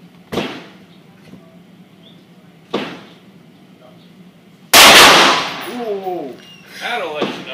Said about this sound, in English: stoking up the 357 Magnum 125 grain jacketed hollow points loaded with 22 grains of H110 powder